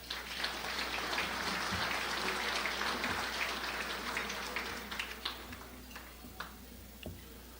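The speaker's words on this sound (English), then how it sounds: "Round of applause for them as well." Scattered audience applause at a city's State of the City event tapers off over several seconds, a quiet, distant pattering of many hands that thins to a few isolated claps near the end under a steady low hum.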